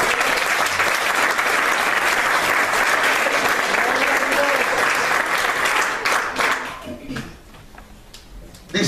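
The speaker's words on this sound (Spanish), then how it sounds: "Dale un aplauso grande." Sustained, loud applause from a church congregation at an anniversary service, a dense wash of clapping for about six seconds that then thins out and fades into scattered claps.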